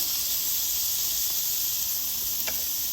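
Onion smash burgers sizzle steadily on a Blackstone Adventure Ready 20-inch portable griddle, a loud continuous frying hiss with a couple of faint clicks from a spatula, no talking.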